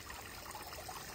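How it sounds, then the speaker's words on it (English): Gentle, continuous trickle of water in a small decorative water fountain bought online, a soft steady babble heard alone at low level. "we have the water fountain that we got from Amazon"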